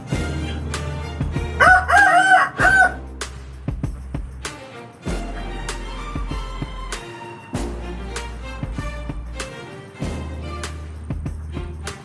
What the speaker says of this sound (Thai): มีทั้งเป็ดทั้งไก่นะฮะ